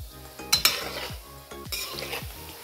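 A spatula stirs frying food in a pan, making repeated scraping strokes in a steady rhythm over a continuous sizzle, close and fairly loud, with no talking.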